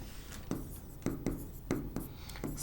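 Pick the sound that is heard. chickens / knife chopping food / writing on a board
writing on a board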